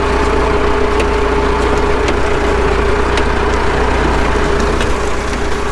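Tractor pulling a simple wheel-driven, chain-driven potato planter in a field, a steady close engine drone with a faint whine and occasional light metallic clicks and taps over it.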